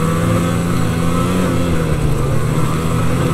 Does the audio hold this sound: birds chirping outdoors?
no